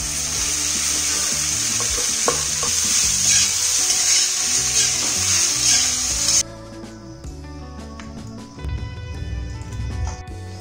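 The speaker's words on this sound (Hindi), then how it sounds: "तो बस वही हम फ्राई कर रहे हैं नाश्ता के लिए।" Leftover rice frying in a pan for breakfast, a loud continuous sizzle with stirring scrapes that drops abruptly to quieter clattering and lower sizzling partway through.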